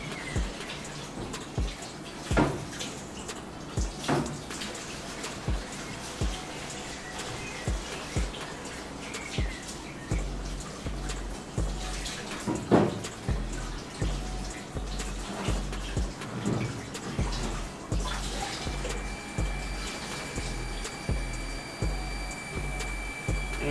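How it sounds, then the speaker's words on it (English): A household water pump hums steadily beside running water in a kitchen, with faint intermittent clinks and splashes over the low, continuous drone, fairly quiet and without talk. "sorry about the water pump"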